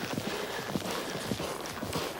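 A horse's hooves thud in a rhythmic clip-clop across a riding arena as it canters toward a show jump, with steady, moderately near footfalls and no talking.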